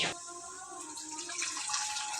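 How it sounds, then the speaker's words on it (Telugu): Water pours steadily into a pressure cooker with rice for vegetable pulao, a continuous hissing gush that begins abruptly and holds at an even level throughout. "ఇప్పుడు వాటర్ పోసుకుందాం"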